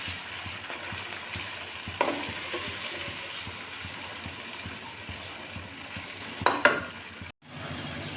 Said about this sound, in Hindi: साथ में हम ये लहसुन अदरक भी इसके साथ फ्राई कर लेंगे